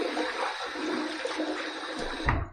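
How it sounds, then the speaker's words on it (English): Water is splashed and thrown onto a face with 2 days of beard growth before a shave, a loud continuous rushing wash that cuts off with a final splash. "Let me throw a little more water on there"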